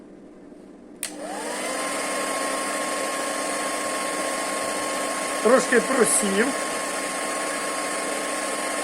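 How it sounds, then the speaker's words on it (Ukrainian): A hair dryer switches on after about a second and runs as a loud, steady whine that fills the rest of the clip, with a brief stretch of speech over it near the end. "Так, і фена включаємо."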